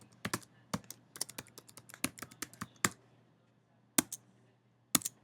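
Someone types a password on a computer keyboard: a quick, quiet burst of clicky keystrokes followed by a pause and two isolated taps near the end.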